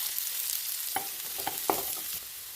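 Onion and garlic sizzle in hot oil for a potato curry, a soft continuous hiss with a few faint stirring scrapes and crackles, heard alone at low volume.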